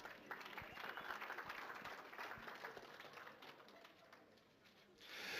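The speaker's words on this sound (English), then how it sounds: "Give yourselves a round of applause now." A charity auction audience gives a faint, sustained round of applause that swells again at the end, with a few soft voices under the clapping.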